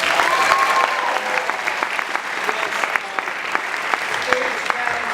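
Audience applause at a stage performance, a dense steady wash of many hands clapping throughout, with a few voices faintly audible underneath.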